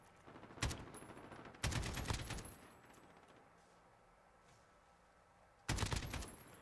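Call of Duty Modern Warfare multiplayer gunfire: three short automatic bursts, the second longer, separated by quieter stretches of game ambience, fairly faint overall.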